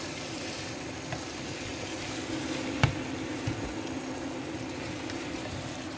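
Minced beef frying in a pan makes a soft, steady sizzle throughout, with a single faint click partway through.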